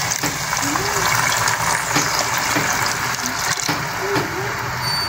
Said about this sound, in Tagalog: naglagay tayo ng 2 glass of water